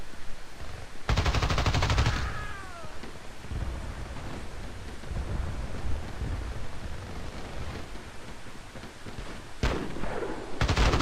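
Video game gunfire from a UMP45 submachine gun in Battlefield Play4free: a loud sustained burst near the start and another near the end, with rumbling battle noise and scattered distant shots between them.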